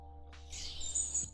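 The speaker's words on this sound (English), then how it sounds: "Maybe some birds?" A short bird-chirping sound effect gives a few quick, high tweets over a faint, steady low hum, soft and brief.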